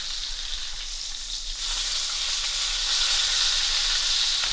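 A steak searing in a hot pan with butter and thyme, giving a steady close hiss that grows louder and fuller partway through, with no talking.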